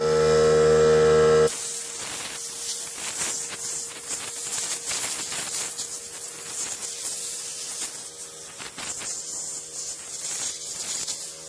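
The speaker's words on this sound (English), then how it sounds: "I'm getting my air compressor to clean it off a little bit" An air compressor blows dust off a Macintosh 512k computer, a short loud tonal compressor blast followed by a long hissing spray of air with scattered rubbing and clattering bursts, close by and without speech.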